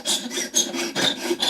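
A bone guitar saddle is sanded on a sanding block in a series of quick, close rasping strokes, roughly five or six passes worked at angles, dry and scratchy with no voices.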